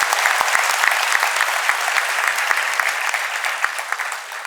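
An audience at a Nashik stage event breaks into steady applause, a dense wash of many hands clapping continuously at even loudness throughout, with a few sharper individual claps standing out and no talk.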